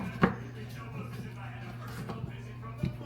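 Knife slicing through fresh lemongrass stalks from the garden on a cutting board, a few sharp, close chops spaced a second or two apart beneath a steady background hum, with a person talking.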